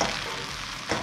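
Fried rice being stirred in a hot pan, restaurant style, gives a steady close sizzle and scraping hiss for about a second.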